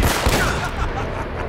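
Gunfire in the video game Uncharted: a dense burst of overlapping shots fills the clip at steady loudness, with the sharpest reports early on and continued firing trailing after.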